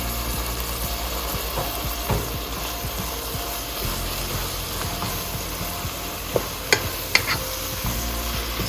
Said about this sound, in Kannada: ಈಗ ನಾನು ಇದಕ್ಕೆ ಜಿಂಜರ್ ಮತ್ತೆ ಗಾರ್ಲಿಕ್ ಅನ್ನು ಹಾಕ್ತಾ ಇದ್ದೇನೆ.